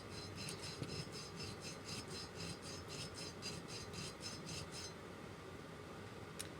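Rhythmic rasping of sandpaper scraping a curved metal bezel held on a mandrel, about a dozen quick back-and-forth strokes, close up, then stopping.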